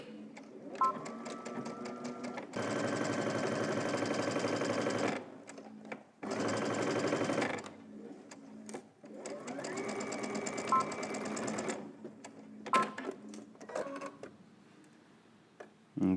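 A domestic sewing machine stitches a robe's pocket bag in several bursts of rapid, even mechanical whirring, close and loud, separated by pauses with small clicks and handling sounds, including a short back stitch.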